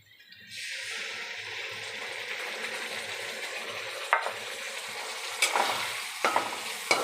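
Potatoes fry with spices in a pan, a steady close sizzle broken by several scraping stirs of a spatula toward the end.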